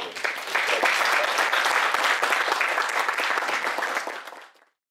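An audience at a Korean book-review lecture concert applauds to welcome the speaker, a full crowd of clapping hands that holds steady, then quickly fades to silence near the end.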